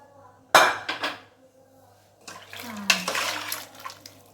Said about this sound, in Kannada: ಮುಚ್ಚಳ ತೆಗಿತಾ ಇದ್ದೀನಿ